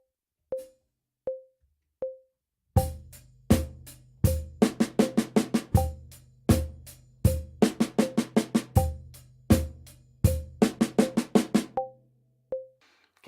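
Drum kit playing a chorus groove at 80 BPM, with sharp snare and cymbal hits over a low kick. The hits come in repeated syncopated bursts, close and loud, with no voice.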